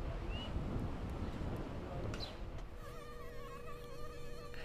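Mosquitoes in McAllen, Texas give a thin, wavering high-pitched whine that emerges over steady wind noise and grows clearer toward the end, close and sustained.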